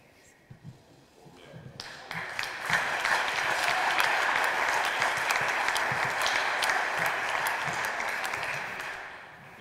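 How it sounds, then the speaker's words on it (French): Applause from the audience at a municipal council installation meeting starts abruptly after a quiet moment and carries on steadily and dense, a broad room-filling clatter of many hands for roughly eight seconds. "Alors je dis d'abord les délègues et après vous applaudissez."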